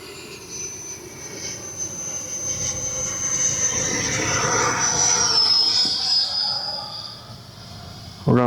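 An FMS F-86 80mm electric ducted-fan RC jet with a KM Models afterburner passes along the runway, its high whine swelling to a roaring peak midway and then fading as it moves off.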